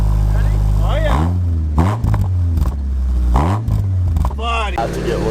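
A right-hand-drive JDM import truck engine revved repeatedly in loud bursts, rising and falling in pitch with idle between, while several people talk excitedly nearby.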